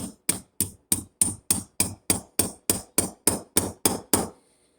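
Fourteen evenly spaced sharp metallic hammer taps drive a pin back into a Yamaha VMAX carburetor, ringing out in a steady rhythm, close and clear, then stop, leaving a short fading ring.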